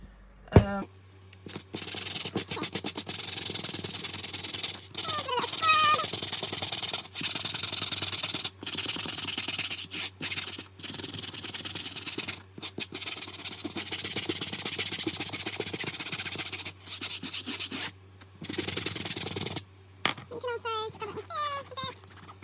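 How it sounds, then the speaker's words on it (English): A nylon strap scrubbed with an old face cloth, giving repeated rough rubbing and scratching strokes in uneven bursts, with short pauses and a few squeaky swipes. "So I'm going to just start by working some scrubbing action on the strap here."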